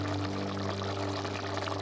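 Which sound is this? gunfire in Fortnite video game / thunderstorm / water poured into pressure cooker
water poured into pressure cooker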